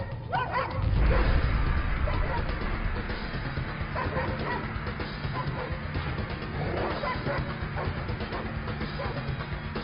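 A dog barks a few times amid a noisy, rumbling background, with some voices faintly mixed in.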